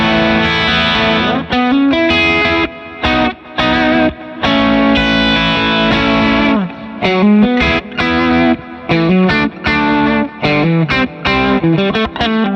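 An electric guitar on its bridge pickup plays a distorted, effects-laden passage through an HX Stomp, with the compressor switched off and then on, sustained chords and riffs with brief gaps and no talking.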